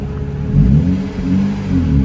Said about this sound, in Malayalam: സ്റ്റാർട്ട് ചെയ്ത് കഴിയുമ്പോൾ ഒരു നല്ലൊരു എക്സോസ്റ്റ് നോട്ടെല്ലാം ഉണ്ട്.